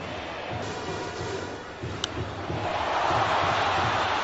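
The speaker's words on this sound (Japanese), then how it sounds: "歓声が上がりました。" A baseball stadium crowd at a professional game swells into cheering, a broad distant roar that builds toward the end, with one brief sharp knock near the middle.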